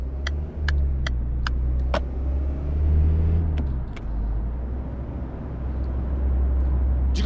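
Steady engine drone of a Volkswagen Passat in the City Car Driving video game, a continuous low rumble with slight rises in revs and a few sharp clicks near the start.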